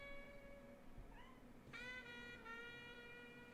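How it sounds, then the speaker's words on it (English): A cat gives a couple of thin, plaintive meows, the first short and soft, the second louder and drawn out, heard close in a quiet room. "Oh my god, pitiful cat."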